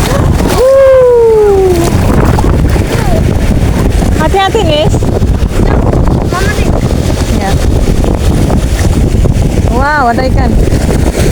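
Strong waves and gusting wind batter a fishing rock by the sea, a steady roar with wind buffeting the microphone throughout, while people talk and call out excitedly over it.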